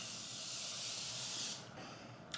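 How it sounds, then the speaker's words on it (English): Morphe setting spray misting in one continuous close hiss lasting about a second and a half, then stopping, followed by a small click. "Morphe setting spray."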